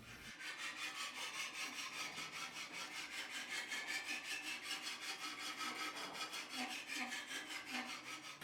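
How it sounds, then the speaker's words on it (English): A knife blade being sharpened on a TSPROF K03 guided sharpener, with a continuous rapid back-and-forth rasping of the stone on steel, steady and even in rhythm, close but quiet, with no talking. "So, as is always the case with sharpening, the foundation sharpening takes by far the longest time."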